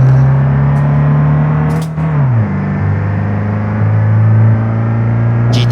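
Loud Ford Transit van engine droning and revving on a highway in the game BeamNG.drive, pitch climbing then dropping as it shifts, then pulling steadily again, with a couple of sharp clicks over it.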